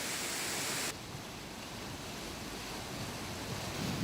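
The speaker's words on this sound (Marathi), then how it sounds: "पालघरमध्ये पुन्हा एकदा पावसाचा जोर वाढलाय" Heavy monsoon rain and rushing water in Palghar, with swollen rivers and streams overflowing near a dam area, form a loud, steady broadband roar that shifts slightly in tone about a second in and then continues unbroken.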